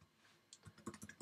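A handful of quick computer keyboard keystrokes tapped in a short irregular burst, faint and close in a quiet room.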